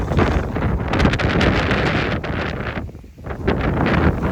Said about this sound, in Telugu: వర్షం పడిద్ది, బయట ఫుల్గా వేస్తుంది గాలి